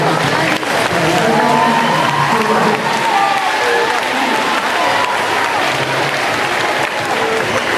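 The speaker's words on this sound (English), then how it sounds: "let's give our speakers a round of applause" Audience at a fitness assembly clapping for the speakers, dense sustained applause from a crowd filling the room, steady and loud throughout, with voices mixed into the clapping.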